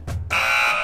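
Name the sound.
buzzer signalling time is up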